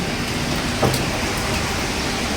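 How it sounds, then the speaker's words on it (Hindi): Steady rain falls outdoors, a dense, even hiss of drops on surfaces, fairly close and constant throughout, with one brief louder splash partway through. "पूरे दिन यहाँ बारिश होती रहती है।"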